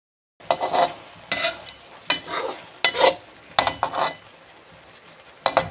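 Vegetables tossed and stirred in a hot pan during Chinese home cooking, with repeated scraping strokes of a utensil against metal over a steady background sizzle, close and fairly loud, no talking.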